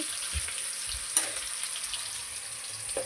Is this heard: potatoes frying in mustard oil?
yes